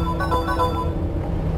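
Message notification chimes from a video game, a cluster of bright tonal pings overlapping one another over a steady low background hum, with no voice present.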